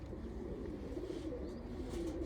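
Janssen racing pigeons in a loft give low, soft coos, faint against a steady background hum, with a few gentle calls repeating across the stretch.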